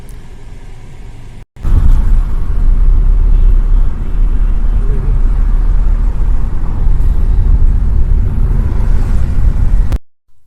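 A Tata Nexon car drives along a road between districts, its engine and tyre rumble a steady, loud, close drone under cabin noise, broken by a brief cut near the start and fading out at the end.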